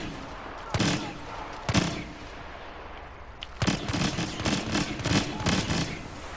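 Rapid gunfire from a video game weapon: two isolated loud shots, a pause, then a fast burst of about half a dozen closely spaced shots, close and sharp.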